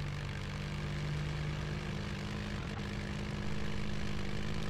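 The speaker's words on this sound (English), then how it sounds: "Ooh, I like the sound of plane." Propeller airplane flying, a steady droning engine hum with a strong low tone that holds evenly, growing slightly louder toward the end, with no talk.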